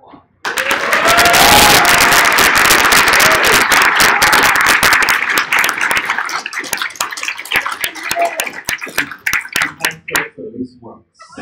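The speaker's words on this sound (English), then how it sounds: "Big round of applause." Loud, dense applause with cheering from a convention Q&A audience at Steam Con US 2017, starting abruptly and sustained for several seconds before thinning into scattered claps that taper off.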